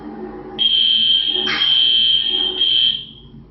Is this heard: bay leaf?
no